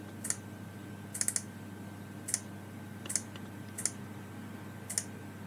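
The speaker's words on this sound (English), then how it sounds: "I also have my keyboard here, but I'm so lazy to type, so I will type by pressing the keyboard from Android. So I'm gonna type bloody sunset." Someone types on a computer keyboard, about a dozen sharp key clicks in small clusters with pauses between, close and crisp over a quiet room hum.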